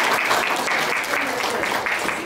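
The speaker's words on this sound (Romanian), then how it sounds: "Și acum merită aplaude" Loud, dense applause from an audience at a teachers' pedagogical circle meeting in Onești after a presentation by two schools, sustained throughout with a close, busy texture.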